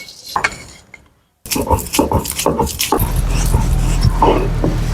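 Dry roasted spices for a chicken curry are ground in a home kitchen, starting with brief clatters and then settling into a steady close whirring grind, with a dog whimpering and barking nearby.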